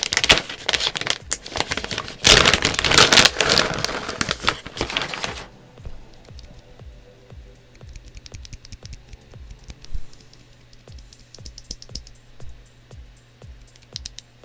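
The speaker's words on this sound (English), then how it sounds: "Just a nice snap of a tactile switch." Kiwi tactile keyboard switches on a Portico68 Black Label build snap sharply with each press, a run of quick, crisp clicks heard up close. Loud crinkling rustle comes first, then the clean keystrokes stand alone.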